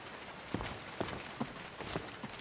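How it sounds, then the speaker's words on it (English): Rain patters on a slightly leaky roof in a steady wash of noise, with several louder drips or taps landing at irregular intervals, fairly quiet and close. "Oh, I can hear the rain hitting the..."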